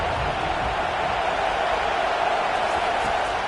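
A football stadium crowd roars in a steady, dense wash of cheering and noise that holds at full level for several seconds, with no breaks.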